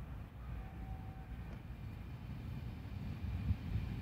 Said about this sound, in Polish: Line S2 train from Sulejówek Miłosna to Warszawa Chopin arrives on track 22, platform 6.